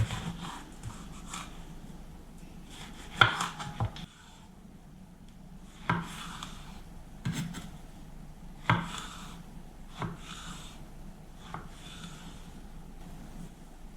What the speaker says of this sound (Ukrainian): Нарізаю яблука на невеличкий кубик.